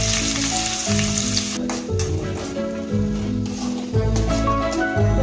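Sliced onion and green chili pieces hit a pan of hot oil with cloves, cinnamon and cumin, bursting into a loud steady sizzle broken by a few thumps and clinks of stirring, close by.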